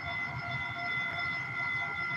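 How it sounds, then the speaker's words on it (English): A train passing somewhere in San Mateo, a steady broadband rumble with sustained tonal whine and horn-like bands, fairly faint and continuous for the whole stretch. "Oh, there goes a train again."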